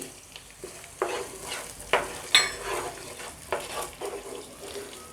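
Tomato is stirred into sorrel-leaf (gongura) chicken frying in a pan, giving repeated scraping strokes of a spoon against the pan over a steady, low sizzle, close and moderately loud.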